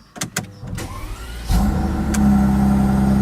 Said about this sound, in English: And the V12 comes to life.